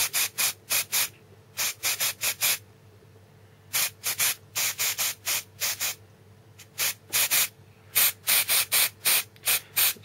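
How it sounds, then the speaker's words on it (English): Short bursts of black spray primer hiss from an aerosol can onto Space Marine miniatures, loud close hisses coming in rapid clusters of three to five with brief pauses between groups. "So I always prefer black spray with Space Marines, personal preference."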